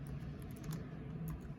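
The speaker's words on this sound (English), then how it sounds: "Now you start typing." Fingers type on a computer keyboard, a quick, soft patter of key clicks heard close up for a moment over faint background hum.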